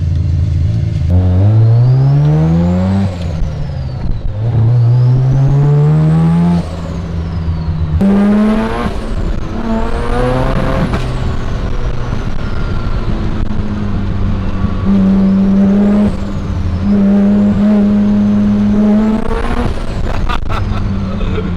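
A custom-built car engine runs close and loud, revving up repeatedly in rising sweeps that fall back to a throbbing idle, several throttle blips spread across the stretch with no talking.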